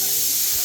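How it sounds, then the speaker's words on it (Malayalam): A pressure cooker in a home kitchen vents steam with a loud, steady, breathy hiss that holds evenly for a brief moment. "ഇത് നമ്മളെ കുക്കർ ക്രൂന്ന് കൂക്കുന്നുണ്ട്"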